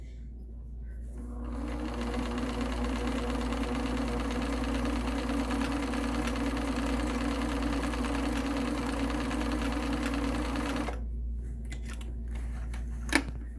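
An Elna Supermatic sewing machine stitches steadily, a loud even whirring hum that runs for about nine seconds before stopping, followed by a few small mechanical clicks.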